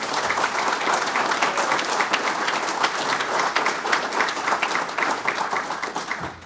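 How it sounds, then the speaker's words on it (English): A room full of people applauds steadily at a St. Cloud Fire Rescue pinning ceremony, with dense, sustained clapping that stays strong for several seconds before tapering at the end. "One more round of applause."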